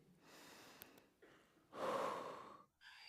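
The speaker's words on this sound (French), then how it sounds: "c'est d'apprendre à respirer" A person draws a slow deep breath in and lets it out, soft and close, with a short pause before a final breath.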